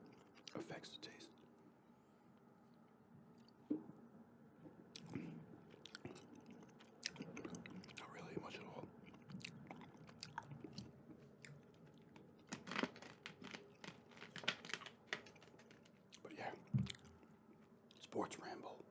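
Close, quiet chewing of watermelon gum, with soft moist smacks and crunchy bites scattered unevenly throughout, under intermittent soft talking.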